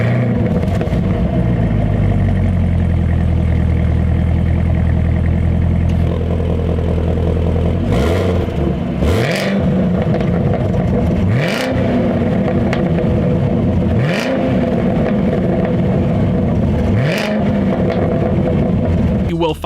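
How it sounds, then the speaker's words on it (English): A Chevrolet Camaro ZL1 exhaust growls loud and close: a steady idle rumble, then a series of sharp revs that rise and fall, each followed by crackling pops from the exhaust. "let out a beast of a growl with some amazing crackling as well to it"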